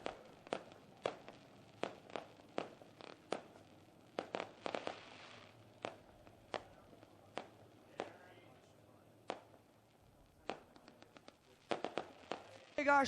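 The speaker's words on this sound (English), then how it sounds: "fireworks light up the sky over Victory Lane here at the Speedway" Fireworks over victory lane at a speedway: a series of sharp, distant pops and bangs at irregular intervals, some in quick clusters, with faint crowd murmur between them.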